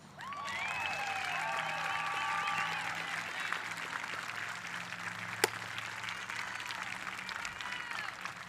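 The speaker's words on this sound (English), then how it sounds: "Round of applause for Ryan Williams." An audience applauds a scholarship winner in a large reverberant room, with steady sustained clapping and a few faint cheers and whistles, heard from a distance.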